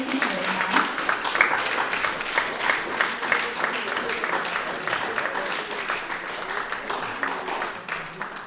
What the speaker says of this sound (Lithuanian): Tai plojimai, sveikinimai mūsų svečiams.